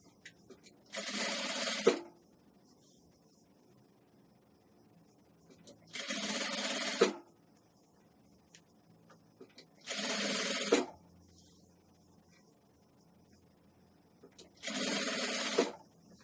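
A sewing machine stitches a zipper onto fabric for a nursing pillow, running in four short bursts of about a second each, separated by quiet pauses while the fabric is adjusted.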